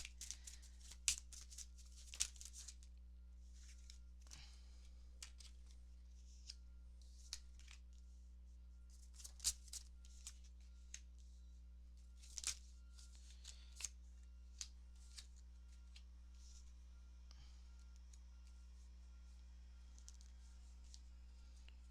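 Tarot cards are shuffled and drawn by hand, a quiet run of soft riffling flicks, slaps and shuffles scattered over a low steady hum, with no talking.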